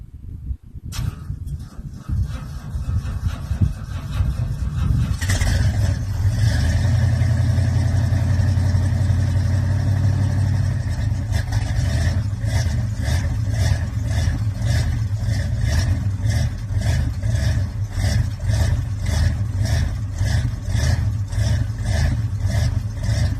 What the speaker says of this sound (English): I patted the gas, turned it over a few times